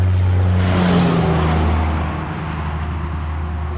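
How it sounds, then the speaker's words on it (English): A loud truck drives past near a lake, a steady, heavy engine rumble close by that holds strong and then eases slightly as it moves on. "It's a loud truck."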